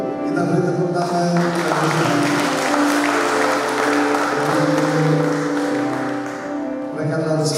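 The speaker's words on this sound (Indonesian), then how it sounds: "Kita beri tepuk tangan." Guests at a wedding ceremony applaud the newly married couple, a full, sustained round of clapping over music playing underneath.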